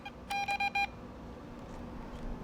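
An EMF detector switched on in a quiet hotel room gives a quick run of four short electronic beeps, close and clear, then falls silent over a low steady hum.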